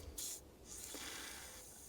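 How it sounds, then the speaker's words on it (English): A short hiss of WD-40 aerosol spray onto a Mountfield Empress lawn mower, then a longer, softer spraying hiss that trails off, close by and fairly quiet. "a bit of a WD-40 spray down here,"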